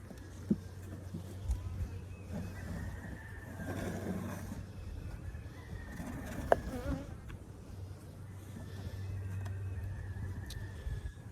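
Honeybees buzzing around an open hive during spring beekeeping in Southeast Alabama, a steady droning hum swelling and fading as bees fly close past, with faint clicks from handling the hive boxes.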